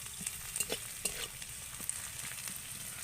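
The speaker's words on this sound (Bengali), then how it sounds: "কাঁচা লঙ্কাটা দিয়েও পেঁয়াজের সাথে একটু নেড়ে চেড়ে নেব" Chopped onions and green chillies frying in a pan while being stirred, giving a steady close sizzle with repeated soft scraping strokes of the spoon throughout, no voices.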